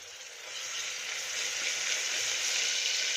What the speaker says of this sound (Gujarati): આપણું તેલ આવી જાય એટલે આપણે આદુ મરચાં લસણની પેસ્ટ નાખીશું।